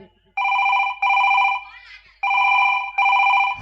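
A telephone bell rings in two clear double bursts, loud and close, with a brief warbling tone between them.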